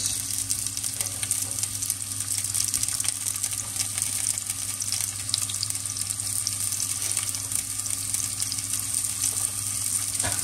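Onions frying in a pan in a home kitchen, a steady, even sizzle that hisses on without pause for the whole stretch, with a faint low hum underneath and no talking.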